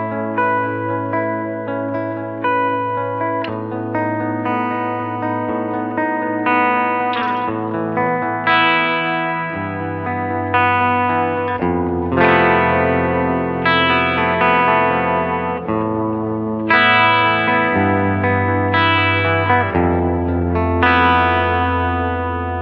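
An electric guitar played through a UAFX Galaxy '74 reverb and tape echo pedal, with the treble turned down and low end added: sustained chords and notes with a wide, washy reverb tail and repeating echoes, loud and continuous.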